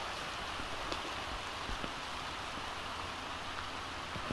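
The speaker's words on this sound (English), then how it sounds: "Sometimes we get rained on" Steady rain pours down outdoors in Florida ahead of a storm, a dense even hiss with scattered drop impacts and no voices throughout.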